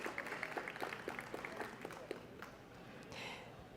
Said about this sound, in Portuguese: Então vamos receber com uma salva de palmas as nossas convidadas.